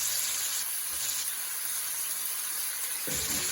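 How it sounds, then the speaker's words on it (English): Beef and broccoli sizzle in a stir fry pan with a loud, steady hiss like steam, and a brief stronger burst near the end. "So as I stir fry this"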